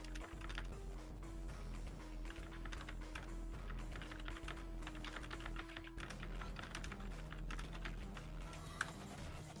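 Steady, continuous typing on a computer keyboard, with dense key clicks running throughout over a constant low background hum.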